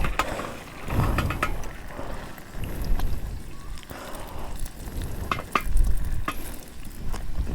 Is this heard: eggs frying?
yes